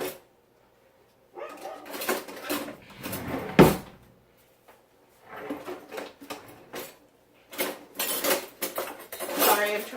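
Kitchen utensils rummaged through in search of a tool, bursts of rattling, clinking metal cutlery and clattering dishes in several busy spells separated by quiet pauses, close by with no talking.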